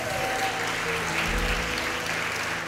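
Audience applause fills a theater during a live unplugged worship concert, a steady dense wash of clapping that holds at even loudness throughout.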